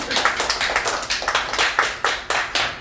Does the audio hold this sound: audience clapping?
yes